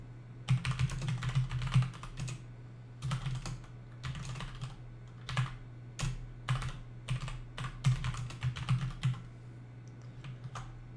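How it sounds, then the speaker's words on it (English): Computer keyboard typing at close range, irregular bursts of keystrokes separated by brief pauses over a steady low hum, with no voices. "I'm gonna be mostly typing out the edits"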